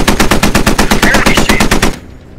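Machine gun fire in the tactical shooter game Squad, a loud, close sustained burst of rapid evenly spaced shots lasting about two seconds, then cutting off abruptly.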